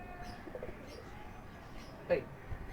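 Soft cooing of golden and red pigeons in the background, with a brief louder call near the end, while someone talks.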